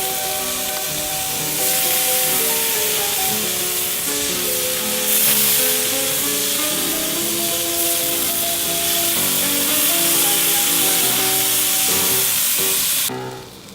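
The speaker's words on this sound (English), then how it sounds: "start basting them with it" Spicy pork chops sizzle on a barbecue grill while being basted with boiled marinade, a loud, steady hiss lasting over ten seconds with sustained tones underneath, cutting off abruptly at the end.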